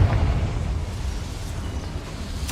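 A Confringo spell blast in Hogwarts Legacy erupts as a low, rumbling explosion that rolls on steadily for a couple of seconds, with a sharp crack of another burst right at the end.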